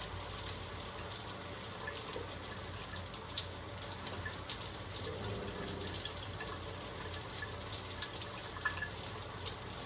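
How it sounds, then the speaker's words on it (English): A rain shower head runs steadily, its spray a broad hiss of falling water that stays even and close throughout, with no voices over it. "rain shower"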